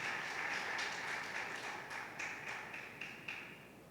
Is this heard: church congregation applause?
yes